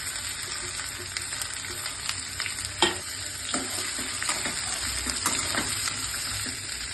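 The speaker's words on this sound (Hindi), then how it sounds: "अब इसमें मैं प्याज, आलू और मिर्ची डालूंगी पकाने के लिए।" Onion, potato and green chili frying in a pan of oil after okra, a steady close sizzle with occasional stirring clinks and scrapes, and no voices.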